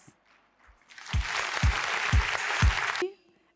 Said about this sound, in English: Let's welcome him on stage with a huge round of applause.